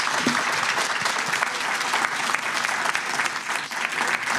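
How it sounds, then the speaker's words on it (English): A panel-discussion audience gives a round of applause for the speakers and moderator, a steady, even spread of many hands clapping for several seconds, unbroken by speech. "Please join me in a round of applause."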